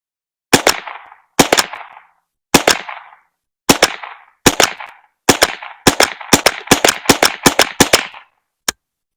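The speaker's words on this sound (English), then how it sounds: "let's see if we can do some rapid fire here" A Stevens Model 76A rifle fires in rapid succession, about fifteen loud, sharp cracks that start spaced out and speed into a quick burst, each one close and clear with no talk.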